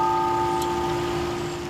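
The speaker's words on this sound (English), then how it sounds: "As bells toll outside Sacred Heart Cathedral, Bishop Mark Beckman is remembering a pope w" Bells toll outside Sacred Heart Cathedral, a steady sustained ringing tone with lingering resonance that carries continuously through the short moment, moderately loud with no voices over it.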